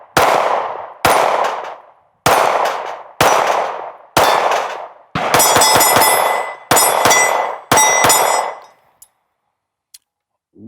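Sig Sauer P320 XCarry pistol firing +P rounds, a string of sharp reports: five evenly spaced shots, then a rapid burst of quick ones, then two or three more, each ringing briefly with metallic echo.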